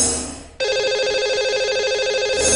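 A telephone rings out as a radio host dials a listener, a loud sustained electronic trill starting abruptly and holding steady, with no voices over it.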